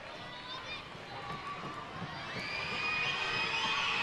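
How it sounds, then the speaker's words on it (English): Crowd at a British Basketball League game between Leeds and Cheshire raising a rising din of shouts and whistles during a late free throw, the noise swelling louder toward the end. "Noise building up from the crowd"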